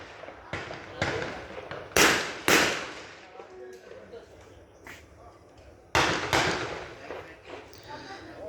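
Shotgun blasts ring out at a station during a national shotgun championship, several sharp cracks spaced seconds apart, a few sounding distant and two louder close reports, with people talking underneath.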